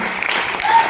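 A crowd at a Modicare event in Panipat claps in a short, loud burst of applause lasting about a second.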